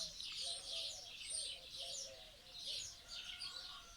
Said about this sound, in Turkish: İçinde kuş var.